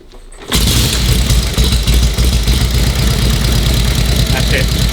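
A vintage Harley motorcycle catches on a kick start and settles straight into a loud, close, steady idle with a lumpy, even beat that runs to the end.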